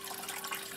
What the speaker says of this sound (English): there it comes, and boom, we've got the siphon effect